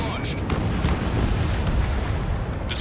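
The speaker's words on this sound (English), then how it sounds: "Destruction of first missile silo confirmed." Massive rumbling missile silo explosion in the video game Ace Combat 7, a loud sustained roar of low booming debris lasting throughout, with faint voice chatter layered over it.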